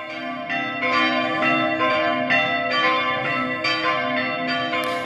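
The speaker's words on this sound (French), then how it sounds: "Ce sont les cloches de l'église de Lilia dans la commune de Plogarneau." Church bells of the church at Lilia in Plouguerneau, Brittany, ringing in a steady repeated rhythm, loud and close, with no voices over them.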